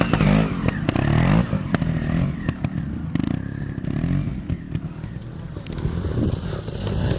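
Trials motorcycle picking its way over rocks at a Northern Centre trial, with a steady close engine burble, throttle blips and clattering scrapes of tyres and frame on stone.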